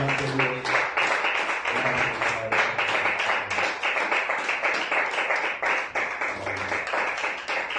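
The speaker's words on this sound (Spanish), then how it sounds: "Dale un fuerte aplauso a Cristo, iglesia" A church congregation applauds at a Sunday evening service: dense, steady clapping from many hands fills the room without pause, with voices faintly mixed in.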